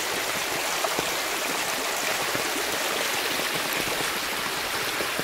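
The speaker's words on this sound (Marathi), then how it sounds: "पाण्याचा आवाज," Rainwater runs and gushes near a village farmhouse during heavy rain, a constant close rushing, babbling flow with scattered drips over it, steady throughout and free of speech.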